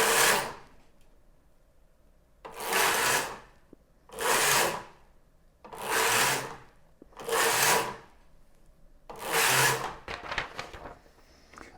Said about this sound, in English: I lay in the yarn and I take my carriage across.